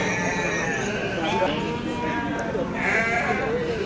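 Rams bleating among a crowd at a Trenggalek livestock market, several overlapping calls rising now and then over steady crowd chatter and people talking nearby.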